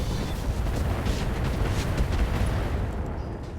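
A continuous loud roar of mech weapons fire hitting a Hornet mech in the BattleTech mod RogueTech, with rumbling impacts and blasts blending into one dense wash and no voices.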